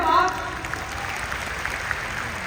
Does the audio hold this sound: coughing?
no